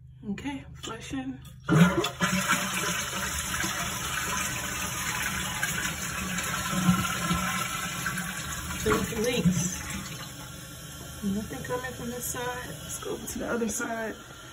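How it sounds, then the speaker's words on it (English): A toilet flushes with a sudden loud rush of water that settles into steady running and refilling, close by, with someone talking intermittently over it. "Okay, flushing."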